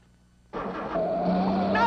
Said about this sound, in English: Now start up the car and back it out.